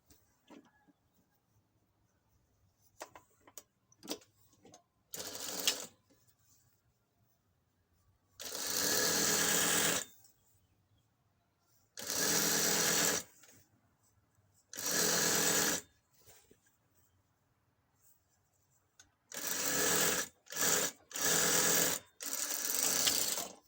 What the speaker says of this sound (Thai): เย็บฝั่งนี้เสร็จแล้วเราก็จะมาเย็บอีกข้างหนึ่งนะคะ